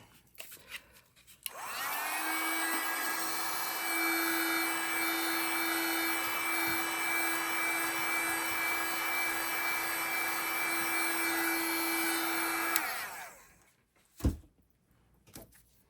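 A dryer blows on acrylic paint on a tumbler, switching on with a steady loud whine and whoosh that holds for about eleven seconds, then cuts off, followed by a few knocks and handling sounds.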